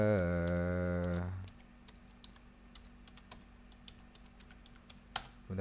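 Someone types a password on a computer keyboard while logging into an Ubuntu server over SSH. A short tonal hum fades, then quick, light, close key clicks tap out in an uneven run.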